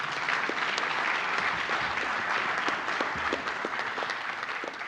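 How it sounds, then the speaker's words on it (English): A crowd at a school athletic and academic award ceremony applauds outstanding student award winners, dense, sustained clapping at even loudness from start to finish. "Ladies and gentlemen, please join me in applause for these outstanding young men and women."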